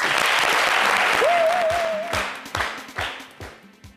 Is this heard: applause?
yes